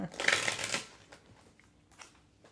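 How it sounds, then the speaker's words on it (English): A quick riffle of tarot cards being shuffled, a soft fluttering burst followed by a few light taps and quiet handling. "Let's shuffle the cards."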